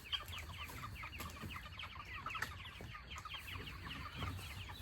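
A flock of meat chickens clucks continuously at a low level, overlapping soft calls and chatter outdoors without any voices.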